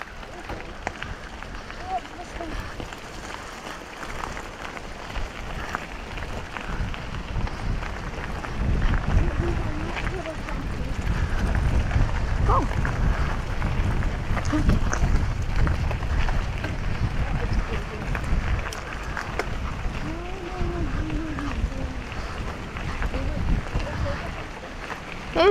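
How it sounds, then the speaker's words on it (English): Wind buffets the microphone in a low, rumbling roar that swells and fades, with people talking intermittently. "It's a bit windy."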